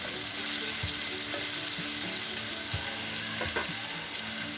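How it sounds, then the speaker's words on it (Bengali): A marinated ingredient lightly stir-frying in hot oil for a vegetable salad gives a steady, close sizzle throughout, with a few soft clinks and scrapes from stirring. "এখন এটা আমি দিয়ে দেবো তেলের মধ্যে, একটু স্টার ফ্রাই করে নেব, হালকা হালকা ভেজে নেব।"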